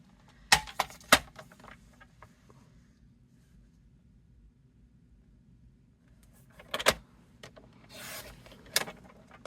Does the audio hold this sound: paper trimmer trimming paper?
yes